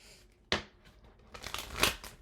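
Thick, dense tarot cards snap and riffle together in a couple of quick shuffling bursts, split in two, close-up and crisp, with a sharp slap followed by a longer ruffling flutter.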